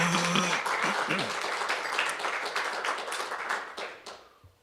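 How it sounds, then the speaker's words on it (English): A studio audience at a local TV golf show claps in a dense, steady round of applause that fades out over the last second, with a voice briefly heard over it. "Impressive applause there, Harry."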